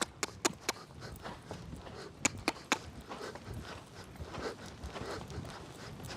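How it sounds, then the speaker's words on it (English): A horse's hooves clip-clop with a few sharp, close strikes in short bursts over a low background, the steps then fading into softer, irregular movement. "he's a lazy lazy spooky horse, the worst kind"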